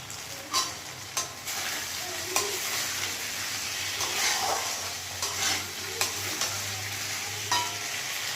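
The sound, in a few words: spice paste being sautéed with potatoes in oil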